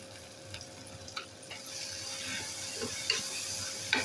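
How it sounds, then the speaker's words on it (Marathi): Chicken masala mixed with curd sizzles softly in a pan over a low flame, with faint frying crackle and occasional sharp clicks of a spoon stirring against the pan. "हे सुद्धा बारीक गॅसवरतीच परतून घ्यायचं आहे।"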